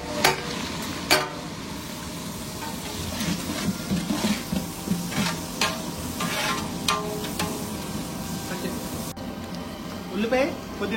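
Onions and bay leaf fry in a pan for veg biryani, with soft sizzling and intermittent stirring scrapes under a person talking nearby.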